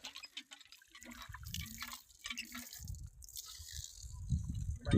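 Cold drinking water running from an outdoor tap, irregular splashing and dripping with uneven bursts of louder flow, close by.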